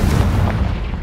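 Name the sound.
Confringo blasting curse explosion in a Hogwarts video game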